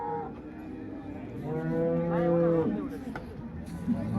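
A single long, low moo from a dairy cow at the Modnimb livestock market swells and fades, with faint background noise around it.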